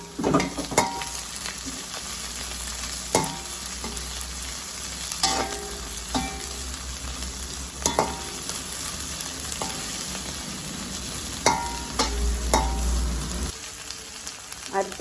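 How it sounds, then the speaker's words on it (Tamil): Onion, garlic and chili sautéing in a pan for vegetable noodles, a steady close sizzle punctuated by repeated clinks and scrapes of stirring. "அடுத்ததாக வெங்காயம், உள்ளி, மிளகாய் 3ஐயும் போட்டு வதக்குவோம்."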